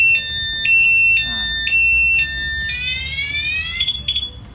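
A Filano anti-theft car alarm wails close by, its piercing electronic tone switching between two pitches in a repeating pattern, then breaking into a rapid rising warble before it fades.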